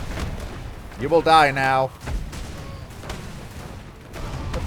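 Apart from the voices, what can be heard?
missiles exploding on pirates in an airship video game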